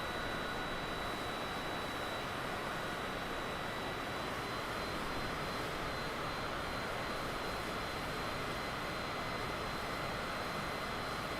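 A Cessna's engine drones in a steady, unbroken roar as the aircraft climbs in a flight simulator game, with a constant level and no talk over it.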